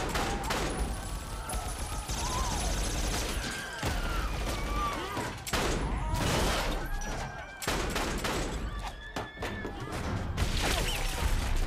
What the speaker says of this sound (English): I have freaking laser guns.